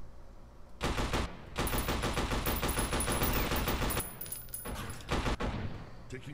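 Bursts of automatic gunfire from the video game F.E.A.R. Perseus Mandate, loud and rapid, with a pause partway through before more shots follow.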